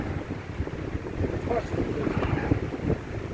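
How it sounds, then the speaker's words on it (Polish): Wind gusts buffet the microphone on a forested mountain trail at about 680 metres, a steady low rumble with fluctuating roar throughout, close and fairly loud. "troszeczkę wieje"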